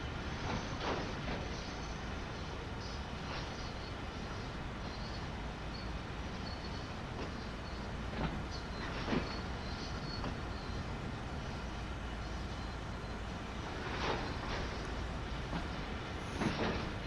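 A heavy freight train in a train-simulator game rolls steadily with a continuous low rumble and occasional faint clanks and squeaks from the cars, no voices.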